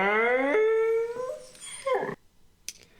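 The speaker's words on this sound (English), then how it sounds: "that was the dog yawning" A dog's drawn-out yawn rises into a squeaky, whining howl with a breathy tail, close and fairly loud, followed by a brief quiet and a faint click.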